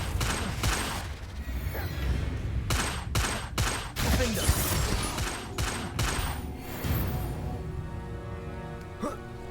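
The Confringo fire spell is cast repeatedly in the video game Hogwarts Legacy, giving a series of quick, punchy blasts in clusters over a dense, rumbling game soundscape.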